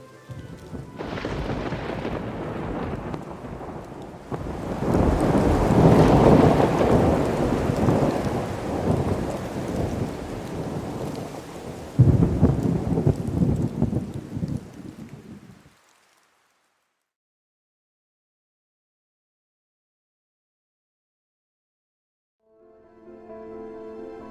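A heavy thunderstorm at a campsite brings a loud downpour and rolling thunder with a sharp crack midway, then cuts to near silence before a faint low sound returns at the end.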